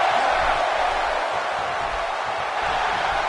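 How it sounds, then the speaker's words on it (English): Arena crowd noise from the WWE 2K17 wrestling video game, a dense, steady roar of cheering spectators that fills the whole stretch evenly, with no clear peaks. "And listen to this crowd."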